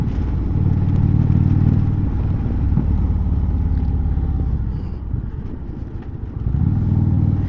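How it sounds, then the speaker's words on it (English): An Indian Chieftain motorcycle with a Thunderstroke 116 engine rides along with a steady, loud low-frequency rumble and wind noise; the engine swells toward the end after a slight dip. "I like this Thunderstroke engine,"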